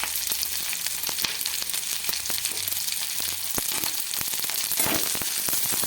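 Ginger pieces and garlic cloves fry over a high flame in a pan for matar paneer, a loud, dense crackling sizzle with frequent sharp pops heard close and uninterrupted.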